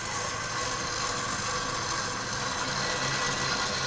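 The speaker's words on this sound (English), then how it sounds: "we're gonna whisk that until it's frothy" An electric mixer on medium speed whisks macaron batter for blueberry cheesecake macarons until frothy, giving a steady, close motor whir with a rattling beater hiss that runs unbroken throughout.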